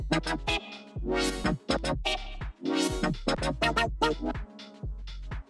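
Soloed future bass synth chords play alone in a choppy, rhythmic pattern, with bright stacked stabs and pitch swells cutting on and off at a steady, loud level.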